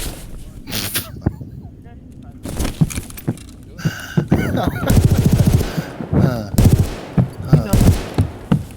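Escape from Tarkov gameplay: bursts of gunfire crack in quick irregular volleys, some rapid like automatic fire, mixed with sharp impacts while players talk excitedly over the action.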